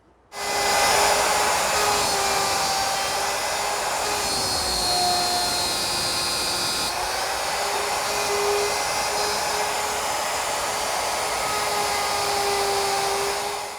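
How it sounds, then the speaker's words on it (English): A power router or similar woodworking machine drones steadily and loudly as drawer-front pins are machined on a jig, a continuous high whine with slight shifts in pitch throughout. "now I'm ready to machine the pins"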